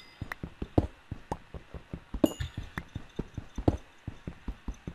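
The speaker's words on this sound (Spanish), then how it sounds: "Eso espero que sean caballos" Horses walk in Minecraft, their hooves clip-clopping in a steady, close rhythm of sharp knocks for several seconds, with no voices.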